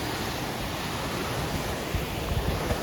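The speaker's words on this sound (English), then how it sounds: "And there is the big waterfall." A big waterfall in Portugal, heard as a steady, loud, broadband roar of rushing water with wind buffeting the microphone and no pauses. No one speaks.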